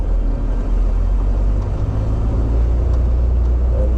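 A car engine labours up a steep incline, a steady loud low rumble of motor and road noise holding for the whole stretch without a break.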